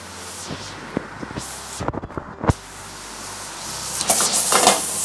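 Food fries in oil in a pan with a soft sizzle, broken by sharp scrapes and clatters of stirring. The sizzle swells louder toward the end, and no one talks.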